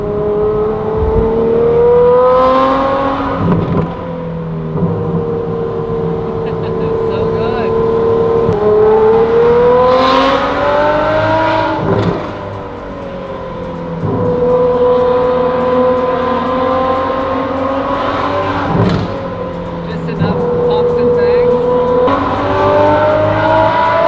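A powerful car engine drones loudly throughout, rising and falling as it accelerates and shifts, with a brief tire squeal and no other sounds.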